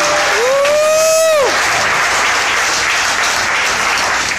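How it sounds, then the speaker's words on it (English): Crowd applause and cheering at an Atlanta beat-making camp event, sustained and loud, opening with a rising synthetic sweep sound over the clapping. "Clap hands for my homeboy."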